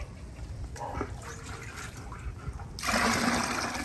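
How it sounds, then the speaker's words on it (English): Water is poured into a container while mixing a soil inoculation spray, with quiet shuffling and faint splashes at first, then a sudden louder, steady gush of liquid for the final second. "I'm going to add 15 more liters of water"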